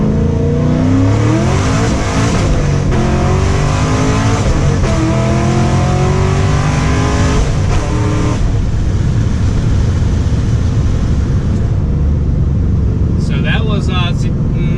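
A 2010-2015 SS Camaro with a KraftWerks supercharger pulls hard from first gear, the engine wailing loud with climbing harmonics through shifts, then easing off to a lower drone; a brief voice comes near the end.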